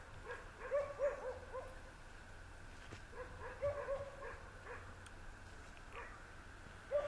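Dogs bark faintly in the distance on a full-moon night near Karaganda, in short clusters of yaps separated by quiet stretches with a low background hum.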